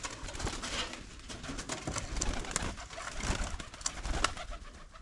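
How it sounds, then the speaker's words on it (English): Pigeons coo and flutter together inside their coop, a steady close chorus of soft low calls with occasional wing and movement noises. "These are my the pigeons. Pigeons, you can see them."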